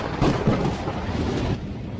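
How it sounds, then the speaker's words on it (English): A loud storm rumbles with heavy rolling thunder over dense rain, a broad roaring wash that swells early and gradually eases toward the end. "At first the storms were very loud and the ark rocked violently back and forth."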